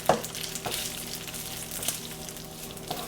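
Tuyo aglio e olio spaghetti being tossed and coated in a hot frying pan, giving a steady sizzle with a few sharp scraping stirs near the start, middle and end, no voices.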